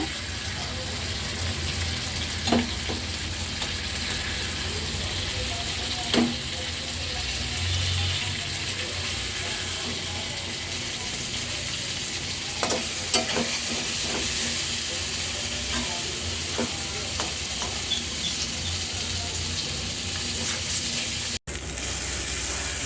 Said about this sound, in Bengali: আমি মাছটা কষাবো